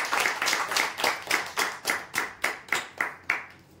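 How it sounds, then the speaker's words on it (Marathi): A small group of people claps in a steady, even rhythm for a prize winner at a lucky draw, about a dozen sharp, loud, evenly spaced claps with no talk. "जोरदार टाळ्या देण्यासाठी"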